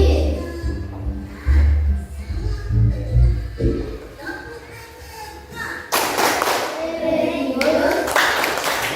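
Indonesian schoolchildren chant together in unison while clapping and slapping out a steady rhythm, a classroom 'tepuk PPK' clapping chant, with loud bursts of claps near the end.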